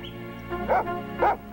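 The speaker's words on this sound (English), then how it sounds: "Tim's barking wasn't helping it any either." Two short dog barks about half a second apart, fairly close, over a low steady hum.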